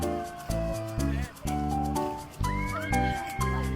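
A cat meows repeatedly in a series of drawn-out, tonal cries, fairly close, on steps at Children's Grand Park in Seoul, with faint voices in the background.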